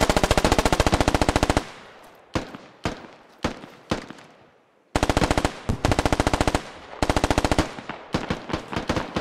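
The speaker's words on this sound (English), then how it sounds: "I see this guy shooting." Automatic rifle fire in the military shooter Squad rattles in loud, close bursts of rapid shots, broken by a few seconds of single distant cracks before heavy sustained bursts resume.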